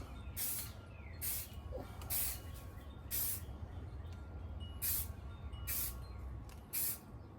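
Short bursts of hiss from a spray paint can, about eight quick sprays with brief pauses between them, close up, lightly painting a rifle.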